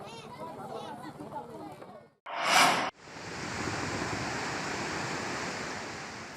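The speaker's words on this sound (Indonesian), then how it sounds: "Angin kencang menyebabkan ombak besar setinggi 3 meter." Big waves about three meters high surge on the Arafura Sea off South Papua in strong wind, a broad, loud roar of surf and wind rush. Talk comes first, then a brief cut before the roar continues.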